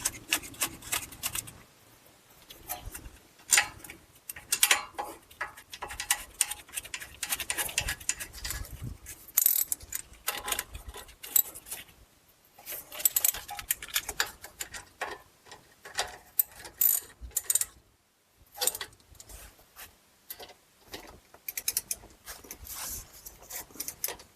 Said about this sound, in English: Then tighten these two 13 mil bolts to 26 foot-pounds.